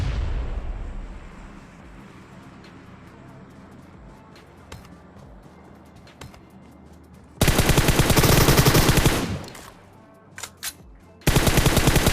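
Bursts of automatic gunfire in a battle royale video game: a loud sustained volley, then a couple of short sharp shots and another burst, all over quieter in-game ambience.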